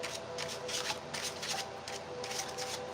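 Shuffling a new tarot card deck: steady riffling and sliding of cards in repeated bursts, close and fairly loud, with no talking.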